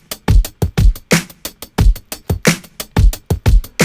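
Punchy drum samples played back on an Akai MPC with Air Transient processing: heavy kicks and crisp snares or claps in a tight, steady groove, loud and dry with no talking.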